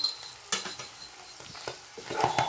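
Goat meat for boti kura stirred with a spoon as salt and coriander powder go in: quick scraping clinks of metal on the pot over a faint sizzle, close and without talk.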